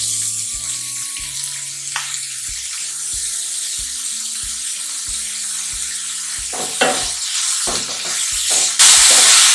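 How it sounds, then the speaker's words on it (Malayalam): Onions with curry leaves and salt sauté in a pan for tomato chutney, giving a steady hiss under prominent background music with clattering stirs toward the end. "അപ്പൊ ഉള്ളി ചെറുതായിട്ടൊന്ന് വാടി വരട്ടെ."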